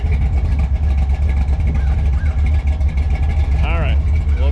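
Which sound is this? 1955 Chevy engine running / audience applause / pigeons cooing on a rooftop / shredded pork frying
1955 Chevy engine running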